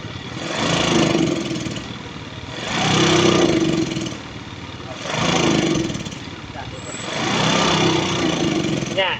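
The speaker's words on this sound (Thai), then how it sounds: "เดี๋ยวครูจะลองเร่งเครื่อง โดยไม่เอามือไปอังที่ปากคาบูนะครับ" A Yamaha Fino scooter engine with a faulty carburetor revs up and down in four repeated surges, each rising then falling back, loud and close, with a steady idle between.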